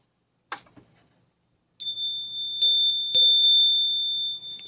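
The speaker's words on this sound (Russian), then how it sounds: "Не забываем нажать на колокольчик." A notification bell sound effect, a short click and then a bright ringing ding struck several times, each tone sustaining and fading.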